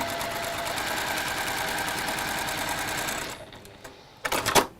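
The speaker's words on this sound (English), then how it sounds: "I'm going to sew the other strip onto the other side" A sewing machine stitches a fabric strip onto a quilt square: a steady, close mechanical whirr for about three seconds stops, followed by a few brief clicks and handling rustles.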